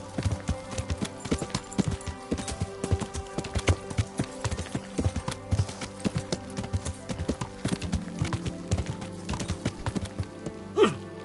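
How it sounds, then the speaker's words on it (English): Horse hooves clip-clop at a steady, brisk pace in the video game Kingdom Come Deliverance, a continuous rhythmic clatter with game ambience and a short snort near the end. "Learn how to ride a horse"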